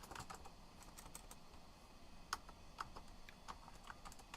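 Keys tapped on a computer keyboard in a retro computing setup, a sparse run of light irregular clicks, soft and close, with no talk.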